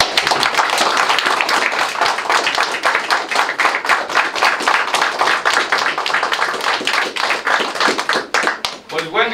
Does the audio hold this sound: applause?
yes